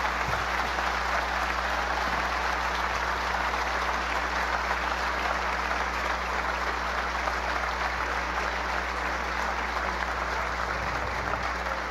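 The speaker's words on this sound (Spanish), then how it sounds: "en medio de los aplausos de los congregados acá en la Asamblea Nacional Bolivariana" Sustained applause from a gathered crowd in the chamber of Venezuela's National Assembly, a steady, dense wash of clapping that holds evenly for the whole stretch with no voices over it.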